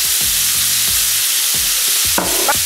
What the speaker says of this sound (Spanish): Así vamos a hacer lo que es el sofrito con todas las verduritas.